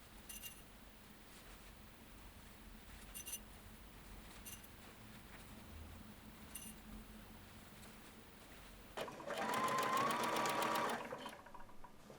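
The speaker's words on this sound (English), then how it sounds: "I'll machine from the back as there is a little bit of easing between the notches." A sewing machine stitches the shoulder seams of a shirtwaister dress, a short burst of fast, even whirring near the end after a long quiet stretch with faint ticks.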